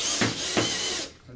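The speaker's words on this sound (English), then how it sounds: "And then I can drill down here" Power drill driving into a bracket during assembly of a Tucker 4-stage DIY kit, a loud close whirring burst with two brief dips in pitch before the motor winds down.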